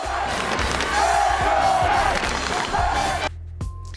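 A packed high school gym crowd roars and cheers for the volleyball team against Bishop Amat, a loud, dense wall of voices with thumps that holds steady, then cuts off abruptly near the end.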